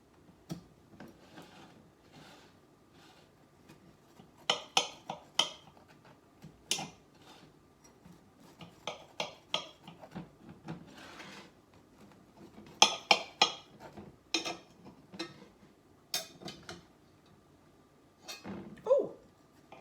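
A knife slicing through hot cornbread in a cast iron pan, with scattered taps and clinks of the blade against the iron. The cuts come in irregular bursts, close by and fairly quiet.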